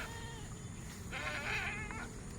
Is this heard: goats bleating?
yes